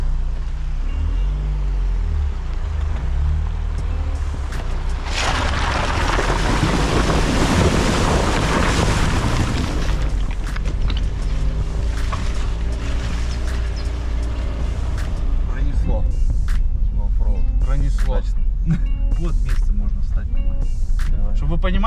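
A car crosses back over a river, with loud, continuous water rushing and wind buffeting throughout, strongest in a surging burst midway, alongside scattered knocks and clatter near the end.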